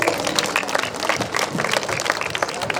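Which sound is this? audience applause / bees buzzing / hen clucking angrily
audience applause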